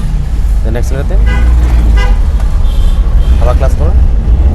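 A car engine runs during a driving lesson, its low steady rumble continuous beneath an instructor's voice giving directions.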